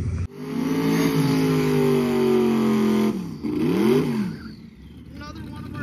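A drag-and-drive car at a championship drag racing event roars down the track, its loud engine holding a steady high note and then rising and falling sharply as it pulls away, with an announcer talking over it.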